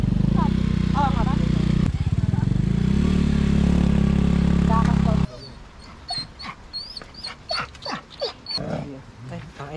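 Dogs whimpering and yipping close by at an outdoor stone site in the Philippines, over loud engine rumble at first, then fainter barks and yelps amid chatter as people talk nearby.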